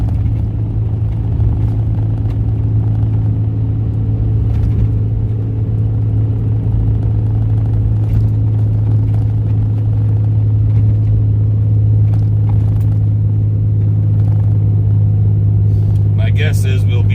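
Low, steady rumble of an old Dodge truck engine in fifth gear hauling a 15,000 pound load up a fairly steep hill, droning continuously beneath a voice.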